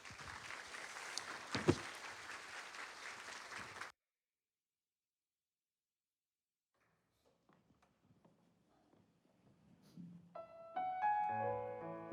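Congregation applause at a Sunday church service, a steady clapping crowd for about four seconds that cuts off abruptly, followed by near silence and then faint music.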